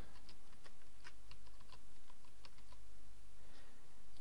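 Typing on a computer keyboard: a run of light, quick, irregular key clicks over a steady background hum.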